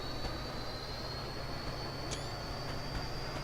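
A freight train in Train Simulator 2017 on the North London Line in stormy weather, rolling along with a steady low rumble and faint high whine, quiet and continuous.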